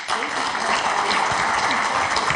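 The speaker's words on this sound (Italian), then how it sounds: "Le facciamo un applauso." Studio audience applauding a winning contestant on an Italian TV game show, a dense, steady wash of clapping throughout with no talk over it.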